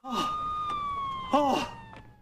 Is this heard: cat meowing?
no